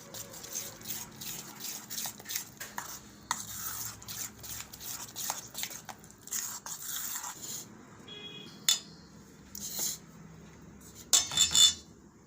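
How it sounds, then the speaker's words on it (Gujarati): Spoon scraping and clinking in a bowl while patra dhokla ingredients and a little oil are mixed, soft repeated taps and rubs with brief louder clinks near the end, no voices. "હવે આપણે આ બધું મિક્સ કરી લઉં"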